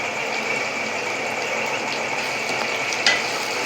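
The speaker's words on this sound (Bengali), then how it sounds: "আবার ভালো করে একসঙ্গে নাড়াচাড়া করবো" Garlic, ginger and chili paste cook in a frying pan, giving a bright steady sizzle throughout with faint stirring and a brief clink near the end.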